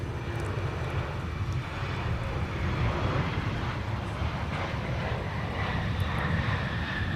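A Delta heavy jet airliner at Minneapolis–St. Paul Airport roars steadily, a loud, continuous engine rumble filling the whole stretch with no voices over it.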